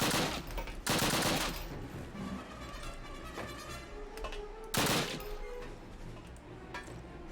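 Gunfire in a Call of Duty video game: dense bursts of rapid shots, with two loud, broad blasts standing out against a busy background of crackling fire and battle noise, no voices.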